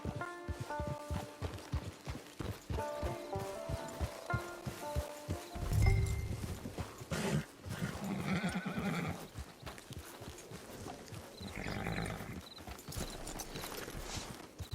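Horse hooves clip-clop in Red Dead Redemption 2, a rhythmic run of steady beats up close, with whinnies and a soft music bed in the back.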